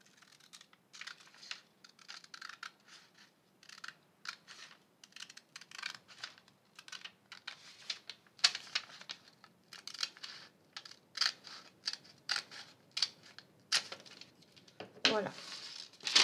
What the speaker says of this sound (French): Et on va couper. On va couper l'excédent.